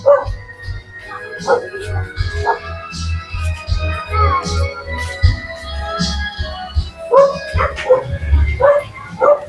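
A dog barks and yips repeatedly at close range, mixed with whimpers, while people talk over it, on a street in Anunas, Angeles City, Pampanga.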